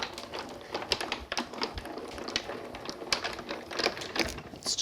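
Die-cutting machine cutting a thank-you card: a continuous grinding and clicking rattle with irregular small taps, steady and moderately loud throughout.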